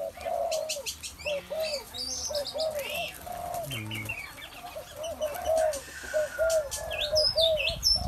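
Spotted doves in a breeding cage give repeated soft coos and scattered chirps, close and steady, with a brief murmur of a voice near the start.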